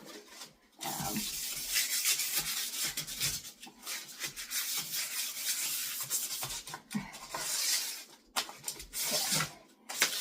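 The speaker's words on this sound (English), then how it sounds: "Clean all that. here, sanding edges here." Close, rhythmic scratchy rubbing of sandpaper worked back and forth by hand along the edges of a bathroom countertop painted with appliance epoxy spray, with brief pauses between strokes.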